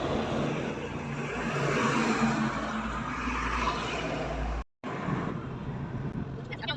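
A car drives along a highway, giving a steady broadband rumble of road and wind noise throughout. The drone is briefly cut by a sharp dropout near the end before resuming.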